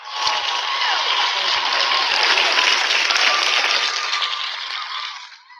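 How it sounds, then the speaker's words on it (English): Sustained applause from an audience honoring a Baltimore poet, steady dense clapping filling the room before tapering off at the end. "Let's throw the hand claps for him."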